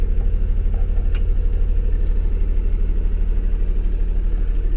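A 2015 Freightliner M2 106 box truck with a Cummins 6.7L diesel idles steadily up close, a loud, even low rumble with a regular pulsing throb and no talk.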